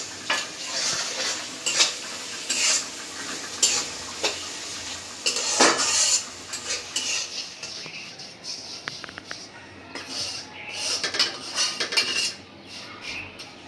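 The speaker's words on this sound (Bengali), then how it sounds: "পেঁয়াজ মরিচটা তেলের উপরে বাদামি করে ভেজে নিব।" Chopped onion, green chili and garam masala fry in hot oil in a village kitchen, a steady close sizzle broken by repeated metal scrapes and clanks of a spoon stirring in the pan.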